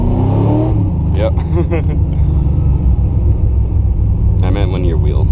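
A Chevrolet Camaro on the street accelerates hard with a loud, steady, low engine drone held throughout, while people talk over it inside the car.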